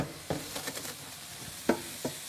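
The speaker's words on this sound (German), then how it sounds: "Pilz, Lauch und Äpfel, alles muss in die Pfanne." Mushrooms, leeks and apples fry in a pan with a soft, steady sizzle, broken by a few sharp scrapes and knocks as they are stirred. No one speaks.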